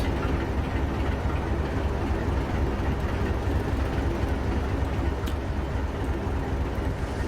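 Steady, close diesel rumble of a Class 47 locomotive in the Trainz Plus game on the Bodmin & Wenford Railway, with a continuous engine drone and rail noise running evenly throughout, with no talking.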